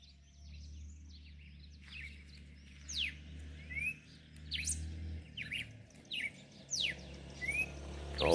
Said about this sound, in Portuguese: Galo de Campina,